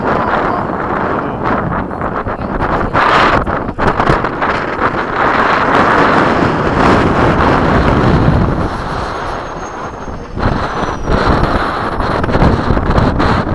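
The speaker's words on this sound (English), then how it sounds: "wind just got strong" Strong wind buffets the microphone at a model jet flying field, producing a loud, continuous roar and rumble that rises and falls in gusts throughout, with no talking.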